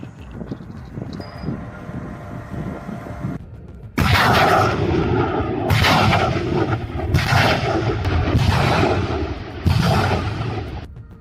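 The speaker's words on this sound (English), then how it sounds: "the Grad MLRS of the northern troops hit a UAV checkpoint, manpower, and armored vehicles of a military unit in the Kharkiv region" A Grad multiple rocket launcher fires in a combat area of the Kharkiv region, with several loud, roaring launch bursts at roughly two-second intervals, each trailing into a rushing rumble over wind noise.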